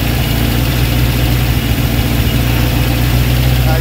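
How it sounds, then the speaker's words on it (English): A Honda CB750 K2 motorcycle engine idles steadily at close range during carburetor balancing, a loud, even low throb with no pauses and a voice talking over it. "RPM's picking up because we're opening the throttle, but we can compensate by bringing it down on the overall adjustment."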